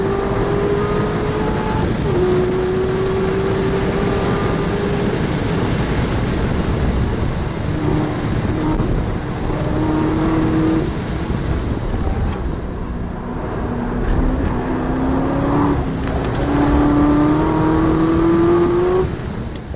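A 2012 Chevrolet Corvette ZR1 in stock form circles the Nurburgring, its engine roaring loudly and continuously from inside the car, pitch climbing through each gear and dropping at every shift.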